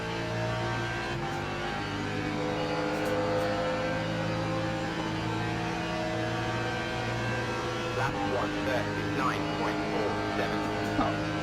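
An LMP prototype race car engine in the Le Mans Ultimate sim racing game drones steadily at high revs. Its pitch shifts between gears, with a few quick downshift blips near the end and no talk over it.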